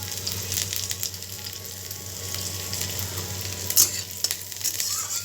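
Chopped garlic and green chillies fry in a pan for cabbage Manchurian, giving a steady, close sizzle with occasional spatula scrapes and stirring bursts throughout.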